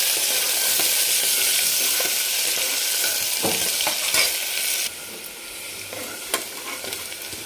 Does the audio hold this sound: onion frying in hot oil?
yes